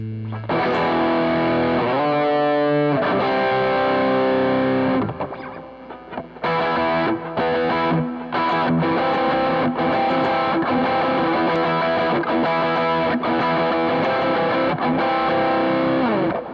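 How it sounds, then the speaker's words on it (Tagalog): An electric guitar played through a distortion pedal with no noise gate rings out in thick, saturated chords and riffs, loud and continuous, with a short quieter gap near the middle and a noisy hum underneath. "Okay, so try nating engage yung distortion natin."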